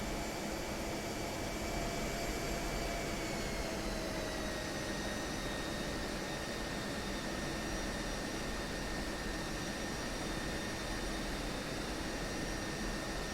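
A steady, loud jet whine and roar from a regional jet's engines inside a flight simulator game, holding constant throughout with a slowly drifting tone and no talk.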